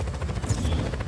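Helicopter in the video game Just Cause 4, a steady low rotor thrum with chopping pulses, loud and continuous through the short moment.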